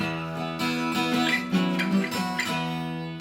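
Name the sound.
electric guitar sliding power chord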